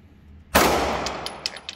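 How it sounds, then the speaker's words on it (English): A single loud gunshot cracks out at a shooting range after a quiet moment, its blast decaying over a second, followed by a few faint metallic clicks and taps. "go ahead, fire, lane nine"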